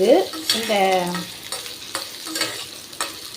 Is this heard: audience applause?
no